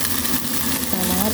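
Minced pork being stirred in a frying pan after tomatoes are added, giving a steady close sizzle and frying hiss with soft scraping from the stirring.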